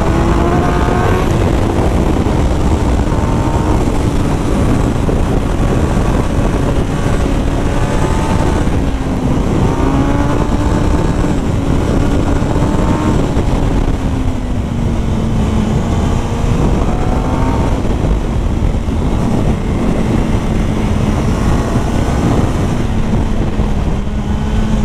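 Kawasaki Ninja ZX-10R sport motorcycle accelerating on the road, a loud continuous engine drone with shifting pitch that climbs and dips through gear changes, heavy wind noise over it, close and sustained.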